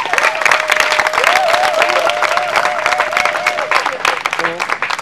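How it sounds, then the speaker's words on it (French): Loud, sustained applause from a staff gathering at a reception in Grand Bassam, dense clapping throughout with a voice speaking or singing over the crowd for much of it. "Je vous demande d'applaudir notre papa à tous"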